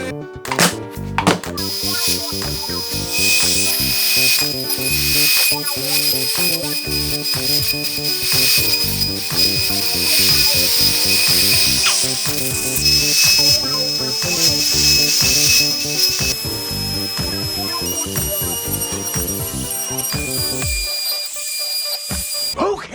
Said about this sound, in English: Now for this, I'm going to use my Makita.